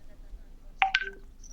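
Telephone call signal tones: two short, sharp electronic beeps in quick succession, fairly close and clear over a quiet room background.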